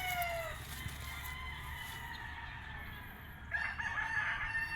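A pure bulik gamecock rooster at a game farm crows loudly nearby, a drawn-out cock-a-doodle-doo, with another crow rising near the end amid faint background farm noise.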